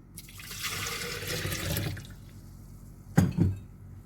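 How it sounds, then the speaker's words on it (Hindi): Water is poured for a jaggery sharbat with lemon and mint, a short splashing stream lasting about two seconds, then quiet, then a couple of sharp clunks from a vessel or utensil. "थोड़ा सा पानी डालेंगे"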